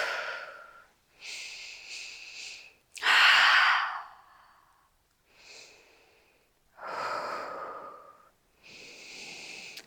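Deep, audible breaths during a yoga flow through high lunge, a series of long inhales and exhales repeating in slow rhythm, close and fairly loud, with quiet pauses between each breath.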